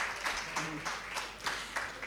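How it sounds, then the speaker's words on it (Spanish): An audience applauds at the end of a parliamentary law class, with several short bursts of clapping heard close and moderately loud. "Con este fuerte aplauso lo despedimos"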